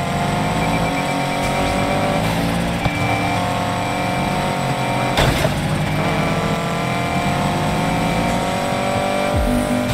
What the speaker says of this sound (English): Driver's in a BMW M3.